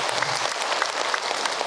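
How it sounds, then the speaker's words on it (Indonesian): A crowd at an Islamic religious lecture applauds, a dense, steady wash of many hands clapping at even loudness throughout, with no voices rising above it. "Tepuk tangan untuk kita semua."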